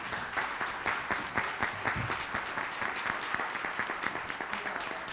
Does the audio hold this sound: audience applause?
yes